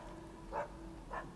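Guard dogs in the video game Assassin's Creed Chronicles China, two short distant barks spaced about half a second apart over a faint background hum.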